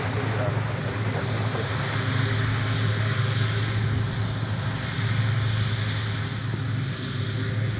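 A Spirit airliner at MSP airport gives off a loud, steady jet engine roar with a constant low hum, continuous and close, while a voice speaks over it.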